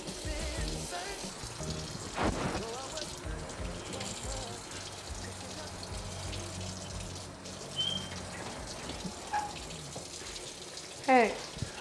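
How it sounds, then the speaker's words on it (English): Water runs steadily from a kitchen tap while dishes are washed, a constant close hiss with a few faint clinks and soft background noise. "Why is the water still running? Are you still doing the dishes?"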